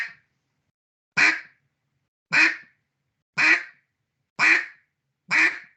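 Duck call blown to imitate a hen mallard quack: five evenly spaced single quacks, each loud, close and nasal, separated by silence, with no talk.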